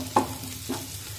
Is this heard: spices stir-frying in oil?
yes